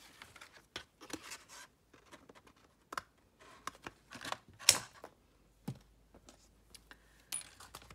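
Cover material for an ice cream box journal being trimmed, heard as sparse, close snips and clicks with quiet gaps between them and one longer scraping cut midway.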